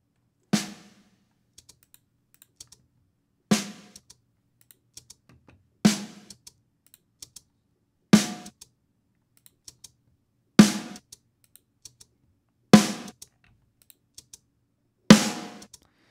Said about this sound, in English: So you guys can hear how he's hitting the drum harder between the different levels.